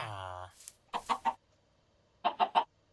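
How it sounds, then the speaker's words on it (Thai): Chickens in Minecraft give two short bursts of three quick clucks each, close and fairly faint, separated by silence, after a brief voiced sound at the start. "แล้วก็ปล่อยไก่นะ"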